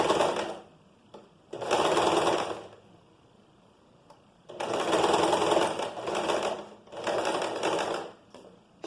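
A sewing machine stitches a fabric top in several steady bursts, each running one to two seconds with short pauses between them while the fabric is positioned. The motor whirs loud and close with no talking.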